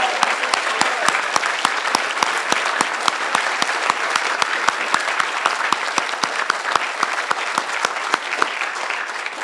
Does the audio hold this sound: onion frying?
no